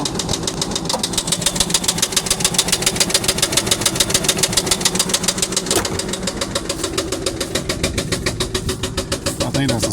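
A 1998 Ford F-150 with the 4.6 V8 idling with a rapid, rhythmic metallic knock, loud and close, steady throughout.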